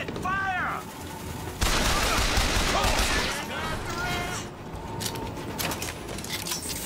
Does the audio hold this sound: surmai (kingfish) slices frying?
no